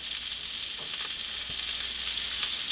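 Vegetables cook in a cast iron pan, giving a continuous bright frying hiss with a few soft stirring knocks, close and even throughout.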